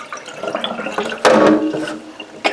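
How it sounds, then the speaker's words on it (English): Water drained off while preparing food in a kitchen, a close, irregular splashing and gurgling pour with a louder gush midway and a brief surge at the end. "Let's drain some of that water off"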